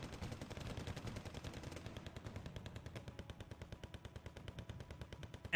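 Rapid rhythmic bursts of gunfire-like booms during a 203 howitzer artillery barrage in a strategy video game, a long regular volley of thumps at moderate distance that continues without pause.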